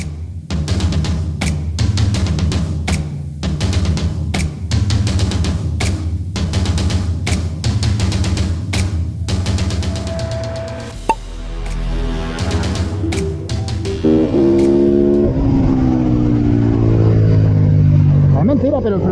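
KTM SMR supermoto motorcycle accelerating around the Campillos karting circuit, its loud engine revving hard through rapid gear changes, then easing off before rising again as someone speaks over it.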